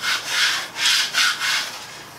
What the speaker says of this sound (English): So we can place it on top of our design. I always go in and scrape from the front